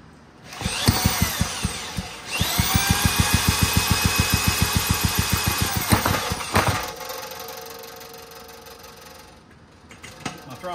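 An old Clinton small engine sputters to life after a carburetor refill, firing in rapid rhythmic pulses loud and close, running unevenly for a few seconds before cutting out and fading.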